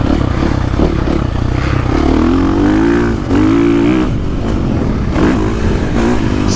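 A 2023 KTM SXF 450 dirt bike engine roars steadily while riding, loud and close, with rising and falling revs as the rider works the throttle between corners, and some clatter from the chassis.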